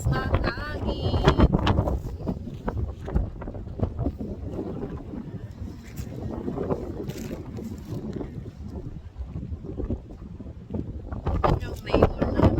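Strong wind blows outdoors during a first snowstorm, roaring and buffeting continuously in loud gusts with low rumbling, while voices talk intermittently over it.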